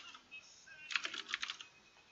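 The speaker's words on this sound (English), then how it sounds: "You can type in here," Typing on a computer keyboard while entering text in a font editor, a short quick burst of several soft key clicks, fairly close and quiet, with no speech.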